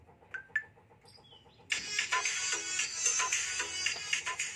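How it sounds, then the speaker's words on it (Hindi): A song plays through the loudspeaker of a Vivo Z1x smartphone, opening with a few chirpy electronic notes before the fuller, bright, tinny music comes in loudly and continues to the end. "ये हमारा अच्छी तरह से साउंड बज रहा है"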